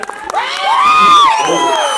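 A crowd of voices cheering and whooping loudly at a film trailer launch event, rising to a sustained shout for about two seconds.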